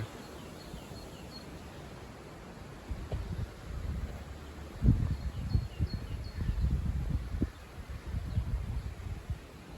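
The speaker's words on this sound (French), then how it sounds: "Notre petit vent de sud." A south wind rustles through foliage and orchard pear trees in spring, a faint airy hiss swelling into louder gusty buffeting in the middle, with a few faint bird chirps above.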